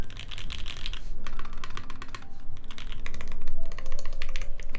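Fast typing on a computer keyboard, a dense run of crisp key clicks and clacks, close by and steady, with no voices.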